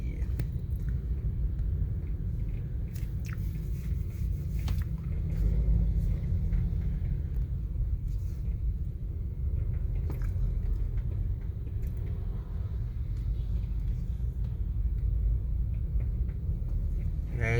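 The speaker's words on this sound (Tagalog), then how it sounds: "early morning traffic." Early morning road traffic on EDSA between Guadalupe and Makati rumbles from inside a vehicle, a continuous deep engine and road drone with occasional clicks and brief voices.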